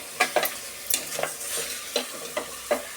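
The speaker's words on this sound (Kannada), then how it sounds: "ಸೇರಿಸಿ ಚೆನ್ನಾಗಿ ಫ್ರೈ ಮಾಡೋಣ ಈ ಥರ ಇದೆಲ್ಲ ಚೆನ್ನಾಗಿ ಫ್ರೈ ಆಗಿ" Chicken fries in a pan for chicken curry while it is stirred, with rhythmic scraping strokes about every third of a second riding over a steady, close sizzle.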